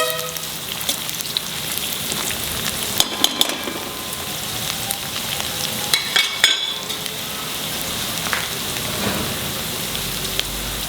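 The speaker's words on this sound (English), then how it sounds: "then you put the onion and fry till they become light brown." Onion fries for a chicken curry in a steady, dense sizzle that runs the whole time like rain, with a few spatters and stirring scrapes popping out above it, close and fairly loud, with no talking.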